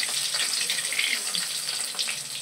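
Fish fries in a pan of hot oil, sizzling constantly at close range with dense crackles and spatters and no talk over it.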